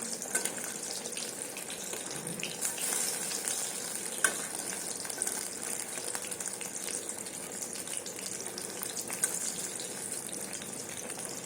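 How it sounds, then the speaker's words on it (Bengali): Slices of pointed gourd and pumpkin fry in oil in a pan with a soft, continuous sizzle and an occasional faint clink as they are turned. The sound is quiet and close, with no voices. "ভাজাগুলো একটু উল্টে দেবো।"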